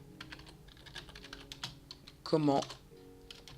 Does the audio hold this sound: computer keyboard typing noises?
yes